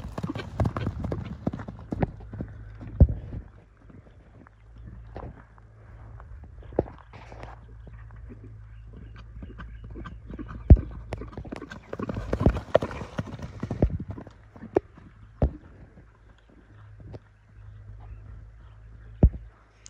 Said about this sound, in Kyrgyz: Өтө узатпай кыска чаап коелу